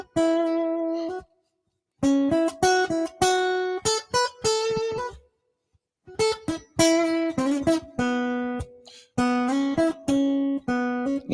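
Acoustic guitar soloing in A on the bottom two strings, playing quick bursts of picked notes and short runs separated by brief pauses, close and clear with no talk.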